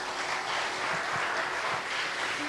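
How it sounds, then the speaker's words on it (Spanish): A church congregation applauds during a sermon, a brief burst of steady, moderately loud clapping from a gathered crowd with no talk over it. "Denle un aplauso al Señor."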